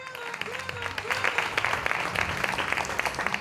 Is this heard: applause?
yes